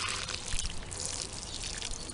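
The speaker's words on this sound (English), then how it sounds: "then you can water it some more." Water pours and trickles onto the packed soil around a newly planted rose, a soft, uneven splashing up close.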